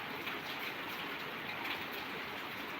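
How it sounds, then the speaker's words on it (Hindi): Steady rain pours outdoors in a dense, even hiss of drops with no pauses or voices. "बारिश हो रही है"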